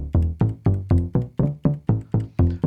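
Bass notes from a Teenage Engineering KOII sampler played on its keys: ten loud, evenly spaced plucked tones with a steady rhythm, each with a punchy attack and short decay, with no other sounds.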